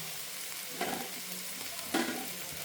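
Coriander leaves being stirred into avalakki upma (flattened rice) in a pan, with a steady soft sizzle and two brief scraping stir strokes close by, no voices.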